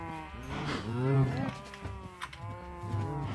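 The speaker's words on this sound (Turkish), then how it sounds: "Ulan her yerde inek var." Cows moo repeatedly in a Minecraft survival game on PS4, several overlapping low, drawn-out calls at close range filling the moment with no talk.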